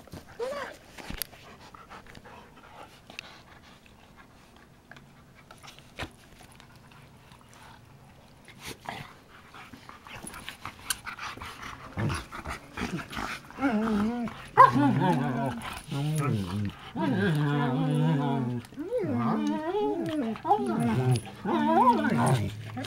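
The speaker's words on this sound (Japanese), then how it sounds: "ワンちゃんこっち。" A dog pants and whimpers softly for a long stretch, then gives louder yips and short barks near the end, while people speak at times.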